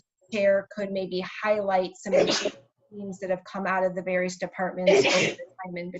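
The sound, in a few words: sneeze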